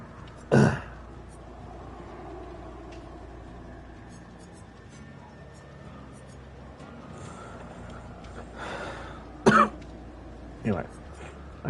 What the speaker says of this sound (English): I still got a little bit of a cough.